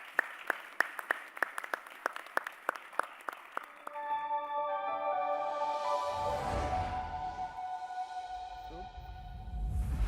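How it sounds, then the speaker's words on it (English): At a green hydrogen summit, the audience applauds the panelists. Sharp, evenly spaced claps come first, then a steadier wash of sound with tones and voices. "Please give our panelists a round of applause."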